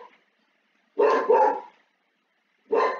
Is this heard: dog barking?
yes